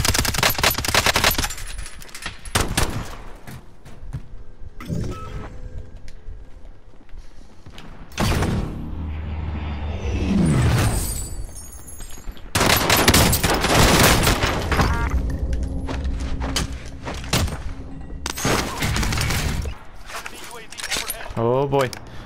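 A Striker 45 submachine gun fires in Warzone Modern Warfare in rapid close bursts, with mechanical clicks and rattling between volleys and a voice talking over parts of the action.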